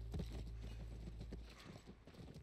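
Horse hooves clip-clop in a quick, uneven rhythm near a ranch in the video game The Last of Us, close and clear over a low steady rumble.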